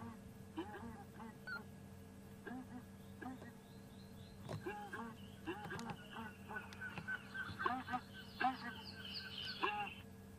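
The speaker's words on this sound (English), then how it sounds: "And this is the ground hornbill." A ground hornbill calling on a safari game drive in Africa, a series of deep, repeated booming notes in a steady rhythm at moderate distance, with other birds and insects in the background and people talking.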